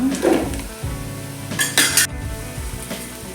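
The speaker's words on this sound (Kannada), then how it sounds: "ಫ್ರೈ ಮಾಡಬೇಕು. ಈಗ ಮಶ್ರೂಮ್ ಹಾಕುವ." Mushrooms frying in a pan for mushroom biryani, a soft sizzle heard close by with clinks and scrapes of a utensil against the pan over a few seconds, and no voices.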